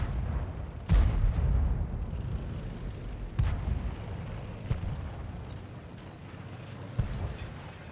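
Cannon fire from a Strv m/42-57 tank in World of Tanks, several heavy booms spaced a few seconds apart over a rumbling battle background, with the loudest blasts near the start.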